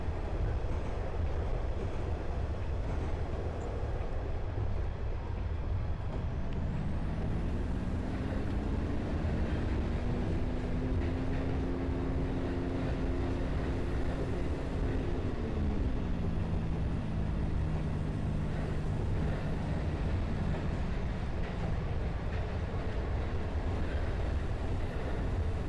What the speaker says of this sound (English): Getting the train out of emergency brake